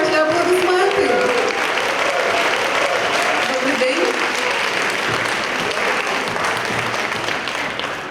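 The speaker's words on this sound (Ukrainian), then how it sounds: "Під оплески публіка зустрічає на сцені винуватець подій події." Sustained audience applause fills a hall as someone takes the stage at a public event, a dense loud wash of many hands that fades slightly toward the end, with a voice talking faintly underneath.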